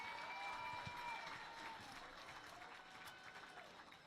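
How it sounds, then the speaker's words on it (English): Crowd applause at a homecoming high school football game, a broad spread of clapping and cheering from the stands, with a public-address voice ringing over the crowd noise. "A round of applause for Brooke Clark and Parker Loggett."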